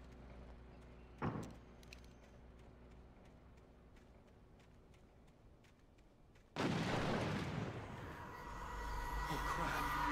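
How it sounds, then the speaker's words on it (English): A train approaches in the Alan Wake video game, a sudden loud rushing roar that bursts in after quiet ambience and a single sharp bang, then keeps rumbling and swelling. "That's a train."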